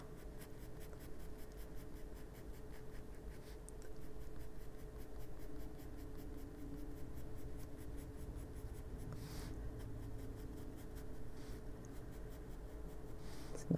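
A Caran d'Ache Pablo colored pencil rubs steadily across paper while coloring, a soft, continuous close scratching with small rhythmic strokes and no talk.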